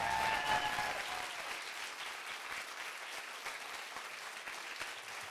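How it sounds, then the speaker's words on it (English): Sustained, fairly faint applause from an audience at a film discussion event, with many hands clapping steadily and unevenly for several seconds and no speech over it. "One more big round of applause for Meadow Musqua"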